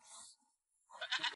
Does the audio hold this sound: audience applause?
no